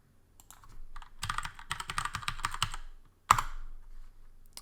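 Typing on a computer keyboard while working in the IntelliJ IDE: a quick burst of close, crisp keystrokes, a short pause, then one sharp tap, like a final Enter key.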